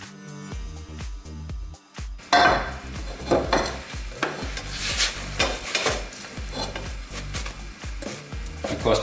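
Cheese steak filling sizzles and fries in a hot copper-based pan, with steady crackling and repeated stirring or scraping scrapes throughout, getting louder after a quieter start, close up with no talking.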